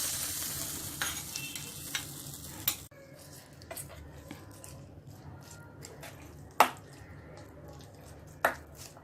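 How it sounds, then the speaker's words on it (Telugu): A fried tempering with asafoetida is tipped into ridge gourd peel chutney and stirred with a spoon, with soft scraping and a few sharp clinks of utensil against the bowl over a quiet background. "వేయించుకున్నటువంటి తాలింపును ఇందులో వేసుకోవాలి."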